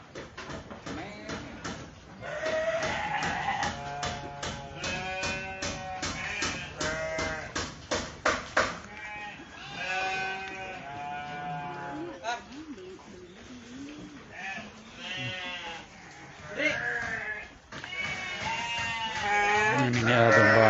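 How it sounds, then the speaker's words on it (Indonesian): Rams, male sheep, bleating repeatedly on a sheep farm, loud and close with overlapping calls from several animals, with a person speaking at times among them. "ini adalah domba pejantan"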